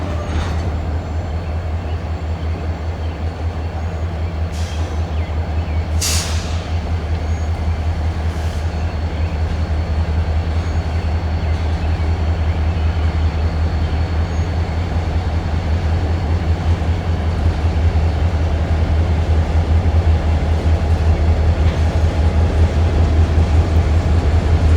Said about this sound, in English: A lot of people tell you that's the best locomotive they ever built.